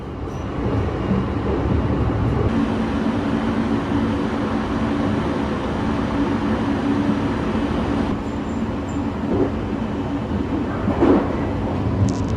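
The Sunrise Izumo overnight sleeper train rolls along at dawn, heard from inside as a steady, loud rumble of wheels and carriage noise, with faint rhythmic rail clicks and no voices.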